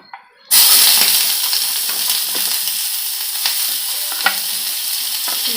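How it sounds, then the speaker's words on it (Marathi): Chopped onion sizzles and fries in a hot pan for a village-style garam masala chicken curry, a loud, steady crackle that starts abruptly and continues with occasional stirring scrapes. "काढून घेऊया आपण कांदा घालूया भाजायला"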